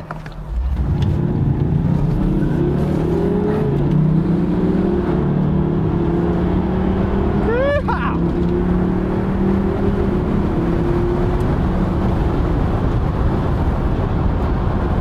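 A BMW 640d xDrive convertible's engine in sport mode drones and revs steadily up through the gears, loud and close, with a brief whine partway through.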